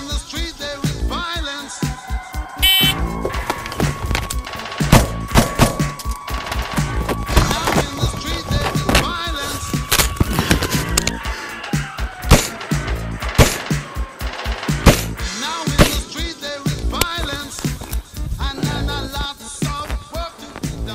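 Rapid gunfire from a timed shooting drill, many loud close shots in quick strings across the whole stretch, with a steady timer-like tone partway through and no talk.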